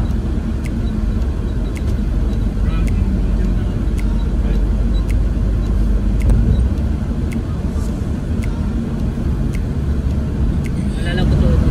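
Ambience in the Dubai Mall car park, with a constant low rumble of engines and cars moving through the enclosed space, plus faint periodic ticks and a few people talking in the background.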